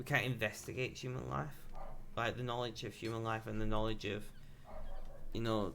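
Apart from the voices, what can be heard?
dog barking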